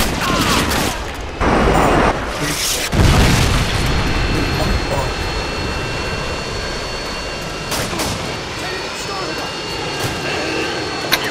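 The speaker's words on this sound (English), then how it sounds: "Friendly Harriers inbound. Friendly Predator missile inbound." Modern Warfare 2 Harrier airstrike with Predator missile explosions: jet roar sweeping overhead amid heavy booming blasts, loudest in the first few seconds, then a sustained rumbling wash of engine noise with scattered distant detonations.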